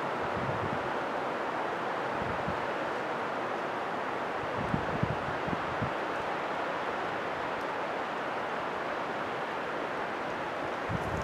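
Wind blows through golden aspen trees in the Rocky Mountains, a steady broadband rush of moving air and rustling leaves with occasional low buffeting thumps across the microphone, continuous throughout.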